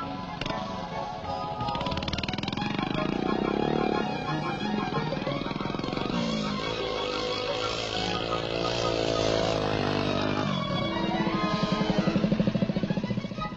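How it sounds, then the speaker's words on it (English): A miniature 50cc scrambling motorbike with 3 gears, built by a motor mechanic father, rides off-road: a buzzy small two-stroke engine revs up and down through gear changes, close and continuous with fluctuating pitch. "Here he is after riding for only 4 months on a miniature 50cc scrambling bike built by his father"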